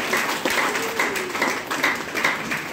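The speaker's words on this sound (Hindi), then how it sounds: "जोरदार ताली।" Audience applause rolls through a hall, loud dense clapping with rhythmic surges, close and steady for a few seconds with no talking over it.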